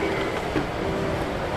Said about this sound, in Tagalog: Yan ang LRT2.